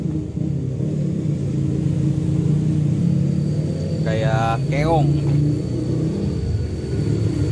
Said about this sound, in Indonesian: banyak motor terabas jadi lumayan berisik sini pinggir jalan